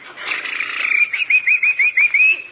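A man whistles a bird-call imitation up close, a rising chirpy warble that breaks into a rhythmic string of short sweeping tweets, with no other sound.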